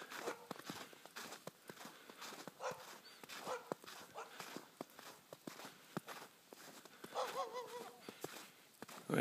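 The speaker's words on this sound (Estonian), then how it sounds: "Tegemist on valge koeraga, kes hakkas haukuma." A white dog barks repeatedly outdoors, the sharp barks coming at a moderate distance and mixed with scuffing, footstep-like noises.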